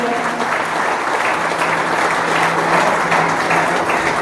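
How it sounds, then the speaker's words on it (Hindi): Loud, sustained applause from the audience at a scholarship distribution ceremony held by a charitable trust in Tinsukia, a dense crowd clapping steadily throughout. "एक बार जोरदार तालियां, जोरदार तालियां।"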